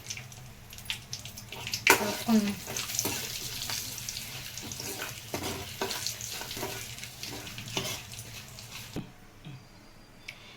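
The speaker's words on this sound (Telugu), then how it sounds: "తాలింపు వేగిపోయిందండి" Spices, curry leaves and turmeric crackle and sizzle in hot oil for brinjal yogurt chutney, with scraping stir sounds and scattered pops, moderately close, fading off near the end.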